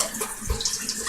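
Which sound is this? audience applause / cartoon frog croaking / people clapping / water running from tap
water running from tap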